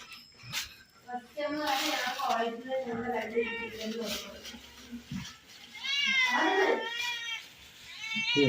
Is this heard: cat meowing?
yes